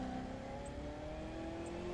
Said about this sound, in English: It's just the rev limiter.